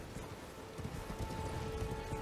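Hooves from a horse-mounted boss in Elden Ring clatter faintly in an uneven, rapid clip-clop over a soft game background, with no talking.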